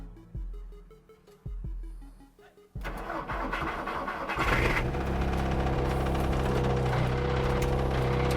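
A MK5 Golf 2.0 TDI Cup race car diesel engine cranks in a few short bursts, then catches and settles into a loud, rough, clattering idle. Close by, with no talking.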